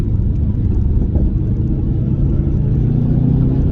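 A blobeye Subaru Impreza WRX gives a loud, close, steady engine rumble as it pulls hard under acceleration, with no talking over it.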